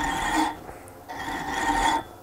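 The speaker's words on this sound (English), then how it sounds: "even with the pressure I'm putting into this, the lathe isn't bogging down" A wood lathe turns a metal bolt while a tool presses against it, giving two stretches of steady scraping whine broken by a short gap, close and fairly loud.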